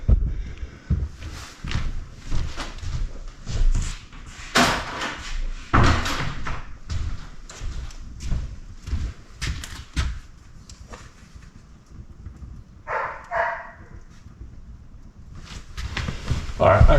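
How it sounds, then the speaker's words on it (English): An old kitchen door in a 195-year-old log cabin is handled and shut, giving a series of wooden knocks and thuds over several seconds, close and fairly loud, with voices in the background. "I closed the kitchen door"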